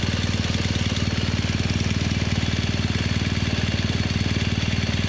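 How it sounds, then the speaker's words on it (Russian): A broken, smoking motorcycle engine idles in the jungle with a steady, loud, rapid knocking chug. The rhythm stays even and continuous and no one speaks. "У меня потом поломался мотоцикл в джунглях."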